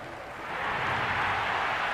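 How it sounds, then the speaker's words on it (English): A cricket stadium crowd at a Pakistan vs West Indies T20 match grows raucous, a broad wash of cheering that swells after a moment and then holds loud and steady. "The crowd are really getting quite raucous."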